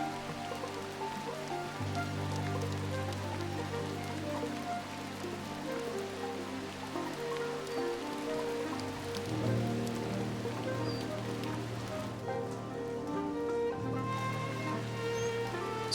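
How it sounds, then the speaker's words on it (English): Steady rain patters down throughout a dark stretch of The Midnight Walk video game, a continuous wash of drops layered over sustained low musical drones, with no talking. "It's raining."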